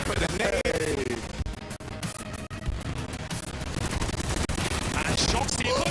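UMP submachine gun fire in a professional Counter-Strike match, rapid bursts of shots packed together under excited commentary, with other gunfire and game sounds layered in.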